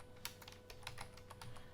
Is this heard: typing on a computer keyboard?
yes